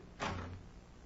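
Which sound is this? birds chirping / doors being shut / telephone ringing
doors being shut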